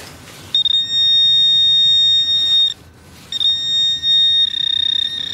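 A metal detector pinpointer on its minimum setting gives a steady high electronic tone in two long sustained stretches, loud and close, separated by a short gap.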